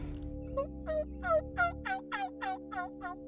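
A wild turkey tom near a cornfield gobbling in one long rattling burst of rapid, bubbling notes, clear and fairly close, over a steady low hum.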